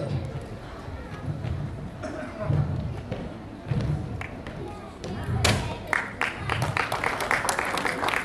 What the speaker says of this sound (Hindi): जोरदार ताली की गड़गड़ाहट हो जाए दोस्तों।